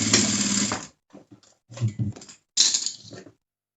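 An electric sewing machine stitches the side seam of a doll's blouse in short bursts, a loud whirring run followed by brief pauses and several quicker, stop-start stitching spurts close by.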